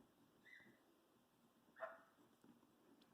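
A few faint, brief yips and whimpers from puppies, spaced apart in a quiet room, with a sharper yelp at the very end.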